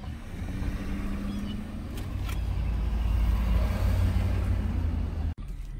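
A car passes along a road through a Louisiana state park campground, its engine and tire rumble swelling steadily and staying close for several seconds, with no talk.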